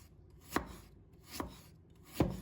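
A knife chops fresh ginger into slices and strips on a board, with three distinct, well-spaced chops, quiet and close.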